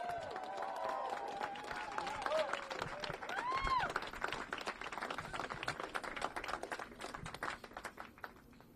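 An election night crowd at a Bay Area primary event applauds the campaign team with steady clapping and some cheering, heard somewhat distant and sustained throughout under a busy hall ambience.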